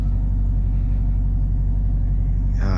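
A deep, loud supercharged V8 engine rumble from a 750 hp Camaro ZL1 with a ported supercharger drones continuously up close, then a brief higher whine or rev rises near the end.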